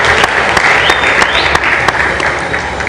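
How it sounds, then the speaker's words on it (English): Loud, close applause fills a citizen assembly panel session as a panelist leaves the stage, a continuous dense clapping from the crowd with a few sharper individual claps standing out. "A round of applause for Hussein as he leaves the panel"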